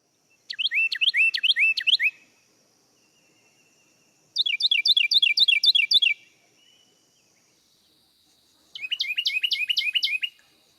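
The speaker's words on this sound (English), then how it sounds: "you can hear it's a really, really loud bird." A Carolina wren sings loud, rapid rolling phrases in three separate bursts with quiet gaps between them, a bright, ringing song close by with no other sound.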